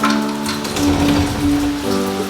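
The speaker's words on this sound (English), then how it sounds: "Still raining like crazy out there, still no surf" Heavy rain pouring down outside, a dense steady hiss of drops on surfaces, loud and continuous, with a faint tonal hum running underneath.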